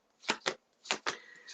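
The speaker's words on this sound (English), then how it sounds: "Give it another quick shuffle" A deck of cards being given a quick shuffle during a psychic reading, heard as five short riffling bursts in an uneven rhythm, fairly close and alone without talk.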